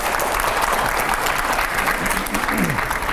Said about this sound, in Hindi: जोरदार तालियां हो पहले।